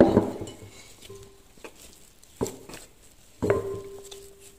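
Biscuit dough for sablés being mixed and kneaded with a little oil, heard as a few soft, damp thumps and scrapes against a bowl, fairly close and quiet, with no talking.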